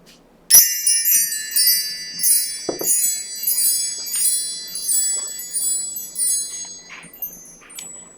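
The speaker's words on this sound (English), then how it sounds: "Let's call in spirit with some wind chime time." Wind chimes rung to open a Divine Feminine tarot reading, a bright shimmering cascade of metallic tones that starts with a sharp strike and keeps ringing and tinkling in overlapping waves, fairly close and alone.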